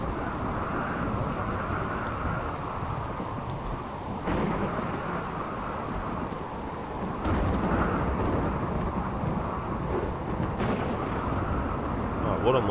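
A thunderstorm in the video game RimWorld: steady heavy rain roars throughout with deep rolling thunder swelling several times, loud and continuous with no voices.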